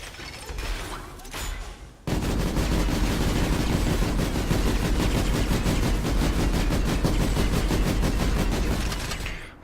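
Gorgon weapons mounted on a MAX suit in the video game PlanetSide 2 fire a sustained, loud stream of rapid mechanical shots that runs for about seven seconds after a quieter start, then cuts off.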